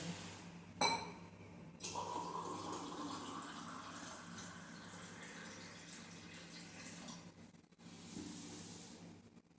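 Water is drawn from a tap in a home kitchen to make sugar syrup: a faint clink, then a steady running stream that cuts off briefly and resumes softly.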